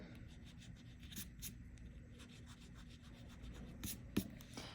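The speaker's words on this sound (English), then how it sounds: "Okay, so then I'm just gonna erase this middle part." A pencil eraser rubs on paper at close range, with soft scratchy strokes in short bursts and a few louder scuffs, quiet overall against a faint room hum.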